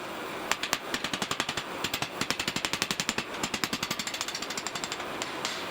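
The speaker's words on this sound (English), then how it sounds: "it should release with a few hits now that it's been dislodged" A hammer strikes repeatedly at a stuck wedge in an old, rusty vise. The blows land in fast, even bursts of sharp metallic knocks, dozens in quick succession with brief pauses between runs.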